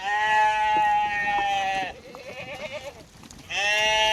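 A herd of goats kept by a young herder bleats loudly and close by, with long wavering calls overlapping, a brief lull in the middle, then another strong bleat at the end.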